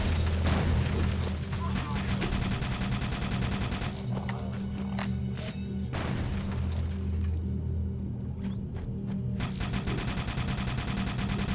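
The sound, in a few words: needler gunfire in the Halo CE video game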